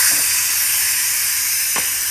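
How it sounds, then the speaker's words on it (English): Steam vents from a pressure cooker during bulk meal prep, a loud continuous hiss that holds steady throughout, close and alone. "So let's release. You've got to be really careful with steam because that really burns."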